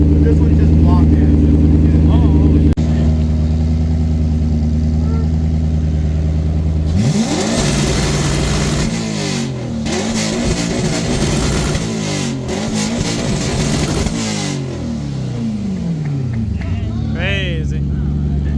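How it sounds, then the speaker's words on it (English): A drift car's engine idles with a low steady drone, then bursts into loud, aggressive revving with rising and falling pitch sweeps and sharp off-throttle crackles, close by and sustained. "This thing be sliding around the track, sounding like that."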